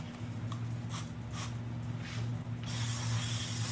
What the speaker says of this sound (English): I have it in the body wash, the underarm, which I'm gonna spray right now.